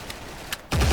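A couple of soft, muffled suppressed gunshots from a G36C rifle pop in quick succession in a video game, followed by a louder, denser burst of fire.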